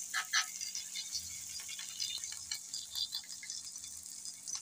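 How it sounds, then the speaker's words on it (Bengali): Fish pieces and browned onions stirred in a pan over a medium flame, giving a steady soft sizzle with scattered scraping and rattling taps from the spatula throughout. "এখন মাছগুলো সব নাড়াচাড়া করে নিচ্ছি।"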